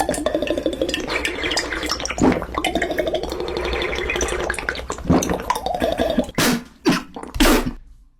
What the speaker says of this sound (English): Me drinking water in the middle of class,